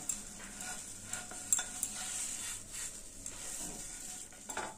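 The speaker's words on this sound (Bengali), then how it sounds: "ফ্রাই প্যানের উপরে এইভাবে একটু চেপে চেপে উল্টে পাল্টে ভেজে নেবেন" Soft sizzling of patishapta pancake batter frying in a frying pan, with light scraping and clinks of a spoon pressing and turning it.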